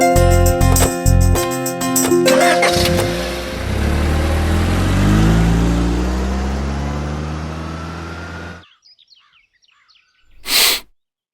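A car engine in a Tamil TV serial starts up, revs and pulls away. The engine tone climbs, then fades into quiet, and a brief burst of noise follows near the end.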